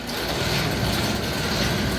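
A Davis S40 paddle mixer's motor and mechanism running with a dense mechanical whir and rattling clatter, loud and close, steady across the whole stretch with no voices.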